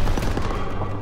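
Dense gunfire in Call of Duty: WWII, a steady, loud fusillade of overlapping rifle and machine-gun shots filling a brief battle moment without clear speech.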